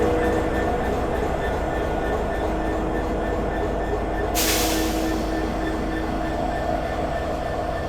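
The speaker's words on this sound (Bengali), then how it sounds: "এই লোকোটি আজকে আমাদের এই সুন্দরবন এক্সপ্রেস ট্রেনকে টেনে নিয়ে যাবে ঢাকা থেকে খুলনা পর্যন্ত" Rumble of the locomotive hauling the Sundarban Express at Dhaka's Kamalapur railway station, a steady dense low drone of engine and rail noise throughout, with a brighter hiss swelling in midway.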